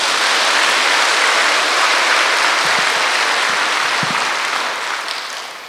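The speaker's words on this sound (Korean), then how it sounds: "이 대목에서는 박수 한번 쳐도 되지 않습니까?" An audience applauds steadily, a dense wash of many hands clapping together that fades slightly at the end.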